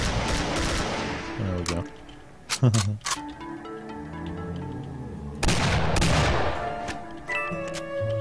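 Sharp, punchy gunshots from the video game Doom: The Golden Souls crack out in several separated bursts, mixed with game sound effects, while someone talks briefly over them.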